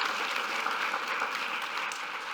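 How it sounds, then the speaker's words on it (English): Steady, even applause from a conference audience, many hands clapping at a moderate distance without a break. "So a huge round of applause, please, because it's not often we get these two together."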